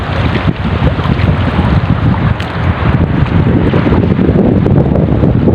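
Strong, steady northeast monsoon wind at a fishing spot roars across the microphone with continuous gusty buffeting, mixed with a broad rushing wash like sea spray; no voices.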